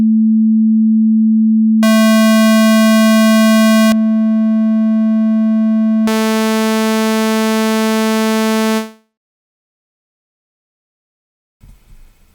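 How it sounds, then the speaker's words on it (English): A pure sine wave tone hums steadily at a low pitch. Brighter, buzzier harmonic tones start and stop over it in turn until everything cuts off, leaving near silence and a faint noise at the end. "you could kind of hear that sine wave kind of underlying the entire time"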